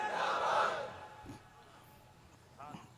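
A crowd at an Urs religious gathering roars back a slogan response in unison, a loud swelling shout that fades within a second, followed by quieter voices and a single speaker talking faintly.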